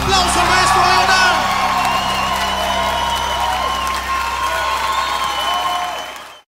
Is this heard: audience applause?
yes